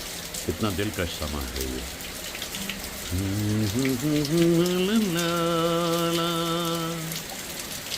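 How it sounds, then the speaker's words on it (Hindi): Steady evening rain showers patter as a continuous wash beneath a voice that speaks and then holds drawn-out, sung-sounding tones. "मुझे बहुत लुत्फ आ रहा है इन बौछारों को देखकर"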